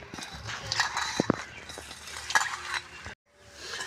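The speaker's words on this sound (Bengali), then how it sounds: "এবার এটাকে আমি ভালোভাবে প্রথমে চটকে নেব।" Drumstick flower mixture with salt and Kashmiri chilli being mashed by hand in a bowl: wet squishing and soft clicks against the dish, close and busy, ending in a brief silence.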